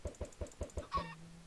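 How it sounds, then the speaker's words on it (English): Blocky Minecraft chickens cluck in a quick, even series of five short soft clucks, followed by a brief higher squawk with a faint lingering tone, close and quiet with no talk. "Just put some chickens in there."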